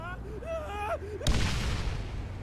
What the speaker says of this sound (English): He blew himself up on a grenade.